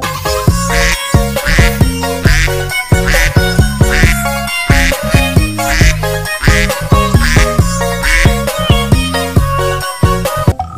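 A cartoon red duck dancing in a colorful children's animation quacks repeatedly and rhythmically along with loud, bouncy music.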